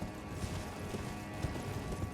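Horse hooves in Elden Ring Shadow of the Erdtree clop steadily under a constant layer of game ambience, the rhythmic footfalls faint and close throughout the short stretch.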